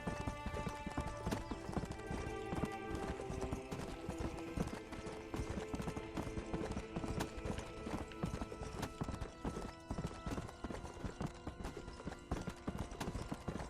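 A horse in Red Dead Redemption gallops continuously at full sprint, its hooves drumming in a rapid, steady rhythm, close and prominent, over a busy background of game sound.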